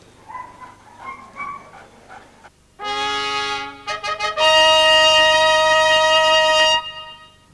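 A dog yelps and whines, first a few faint whimpers, then loud, close, sustained high-pitched howling cries in several bursts.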